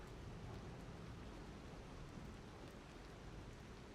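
Steady rain in the video game Lies of P, a dense even hiss of falling drops, continuous and faint, with no other sounds standing out.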